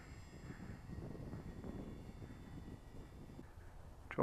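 A radio control model airplane engine idles with the throttle closed, a faint low drone from the aircraft in flight, ending in a brief sharp noise near the microphone.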